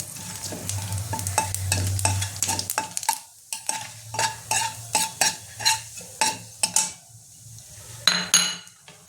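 Whole garam masala, two bay leaves and cumin seeds hit hot oil in a pan, crackling and sizzling loudly while a metal spoon scrapes and clinks repeatedly in a steady stirring rhythm.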